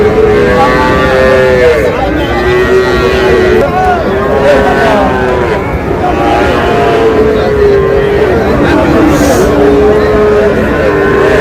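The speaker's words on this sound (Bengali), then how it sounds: "শাহিওয়ালের ষাঁড় বাচ্চা।" A Sahiwal bull calf moos at a livestock market among loud, overlapping voices of a busy crowd that keeps talking throughout.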